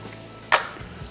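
Ginger and garlic hit hot oil for a beef stew masala, giving one short, loud burst of sizzle against a quiet background.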